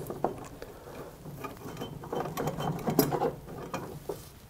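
On an Ariens snowblower, a splined shaft is pushed through a sprocket into its bearing, giving close, uneven metallic clicks, scrapes and light clunks that cluster in the middle of the clip, with no voices.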